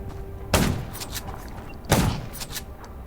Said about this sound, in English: Gunshots will attract more.